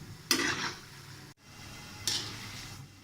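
French fries pakoras sizzling in hot oil in a Punjabi home kitchen, with two bursts of louder crackling frying and stirring against a steady close hiss.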